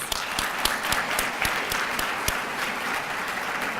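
Parents at a school student recognition ceremony give a sustained round of applause, a moderately loud wash of many hands with a few sharper individual claps standing out.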